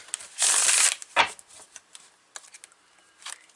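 Tarot cards are riffled and shuffled close by in a quick dense burst, followed by softer scattered snaps and taps as single cards are pulled and laid down.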